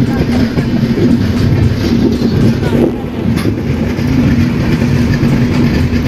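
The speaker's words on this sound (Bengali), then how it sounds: "ডিমাপুর স্টেশন ঢুকছে। আর এই যে আমাদের স্টেশন ঢুকছে ডিমাপুর।" A Kamrup Express passenger train rolling into Dimapur station in Nagaland, heard from on board as a steady, loud rumble of carriages with faint clatter and some wind throughout, briefly dipping near the middle.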